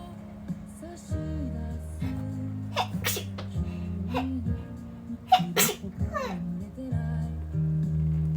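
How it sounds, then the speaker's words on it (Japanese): A woman's single sharp sneeze bursts out midway through, set against background music and light chatter. "あ、くしゃみ出る。"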